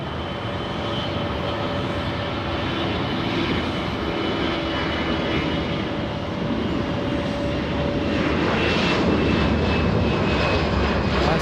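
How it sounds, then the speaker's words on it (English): The world's largest passenger airliner at LAX airport, a loud, sustained jet engine roar that grows slightly stronger toward the end, heard alone with no voices. "That's the biggest aircraft that carries passengers in the entire world."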